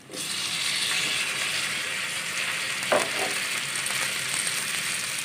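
Garlic-ginger paste frying in a pan for Punjabi-style lauki sabzi, a loud, steady, close sizzle that holds throughout, with one brief stirring scrape partway through.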